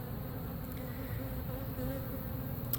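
Honeybees buzz around a hive in a mobile home in Lakeland, Florida, a steady close droning hum that carries on without pause and without voices.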